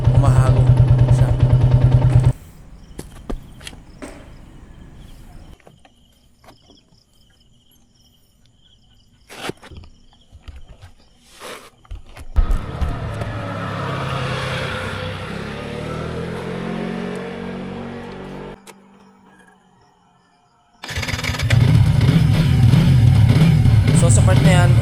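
A Yamaha Sniper 150 motorcycle with an engine fault sputters and chokes instead of revving up, a rough uneven engine sound that rises in the middle and cuts out, with louder steady engine noise at the start and end.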